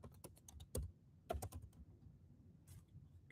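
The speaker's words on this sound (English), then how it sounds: "So we'll just type in John Maxwell here." A name being typed on a computer keyboard: quick close clicks in short bursts with brief pauses between, quiet and alone.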